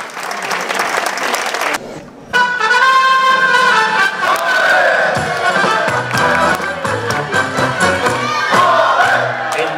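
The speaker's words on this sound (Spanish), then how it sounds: "Un fuerte aplauso." A concert crowd at a San Roque performance bursts into loud applause and cheering, with shouts over sustained clapping, as music starts up underneath and carries on beneath the crowd noise.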